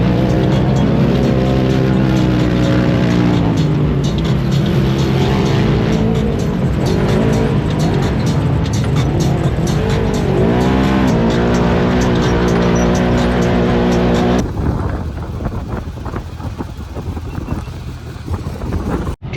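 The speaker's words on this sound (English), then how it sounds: "Driving a UTV, really?" A UTV side-by-side drives off-road, its engine loud and close, revving up and down with wind buffeting the microphone before the sound drops away near the end.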